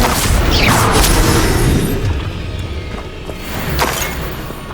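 A Confringo blasting spell erupts in Hogwarts Legacy combat: a loud close boom with a whooshing sweep, then a rumbling tail that fades before a second, softer surge near the end.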